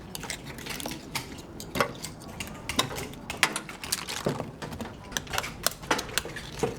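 Sharp, irregular cracks and clicks of oyster shells being broken open one by one, close by, with scraping between snaps and no talking.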